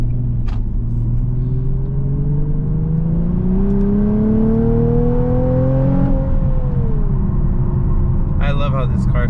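A Nissan 370Z NISMO sports car engine drives past up close at night, its loud steady roar rising in pitch as it accelerates, then easing after a gear change.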